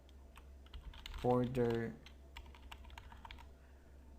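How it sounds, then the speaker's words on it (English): Keys clatter on a computer keyboard in a run of quick, light taps throughout, close and fairly soft, with a man's brief spoken word breaking in partway through. "I'm tired of typing now."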